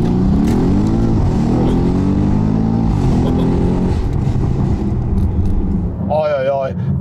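A tuned Audi S8 Plus accelerates hard on a damp road, its engine note climbing in repeated rising sweeps, loud and close, while someone talks over it in Slovak.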